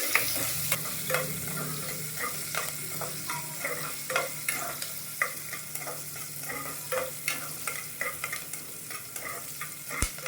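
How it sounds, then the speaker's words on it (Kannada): Onion frying in a pan for a gourd sambar, with steady sizzling and repeated scraping stirs close by, rhythmic and continuous, no talking. "ತಡಿ, ಒಂದು ಈರುಳ್ಳಿ ಹಾಕ್ತಾಯಿದ್ದೀನಿ. ಈರುಳ್ಳಿ ಹಾಕಿದ ನಂತರ ಚೆನ್ನಾಗಿ ಕಲಿಸ್ಕೊತೀನಿ."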